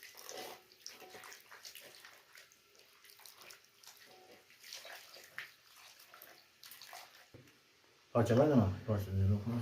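Water poured into a cooking pot while preparing a local dish of bene (wild pistachio) after the oil separates, a loud rushing gush starting near the end after quieter kitchen noise and talk.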